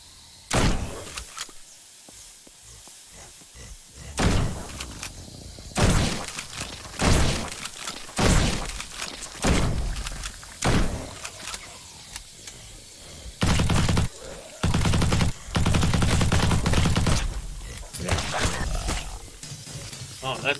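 A zombie tower-defense shooter, with a series of loud shotgun blasts spread across the stretch, each followed by a mechanical pump-and-reload clack, and scattered game noise and spoken commentary between shots.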